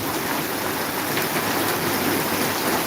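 Heavy rain pouring down in Maharajpur, a loud, dense and unbroken roar of drops hitting the ground and nearby surfaces, close and steady with no voices.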